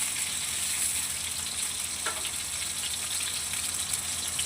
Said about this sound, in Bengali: পটলগুলো লাল লাল করে ভালো করে ভেজে নেব।